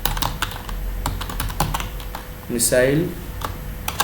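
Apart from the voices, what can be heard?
typing Python code on a computer keyboard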